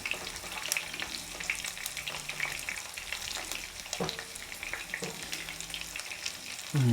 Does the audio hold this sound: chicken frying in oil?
yes